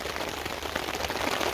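Steady rain drums on a tarp during a heavy downpour, a dense, even patter with no gaps, moderately close and fairly soft.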